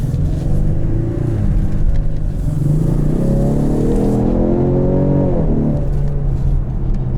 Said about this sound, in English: for this pull I'm gonna put the exhaust in quiet